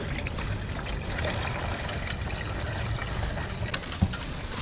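Water runs through a freshly cleared house gutter, a continuous close rushing and trickling flow, with a brief knock near the end.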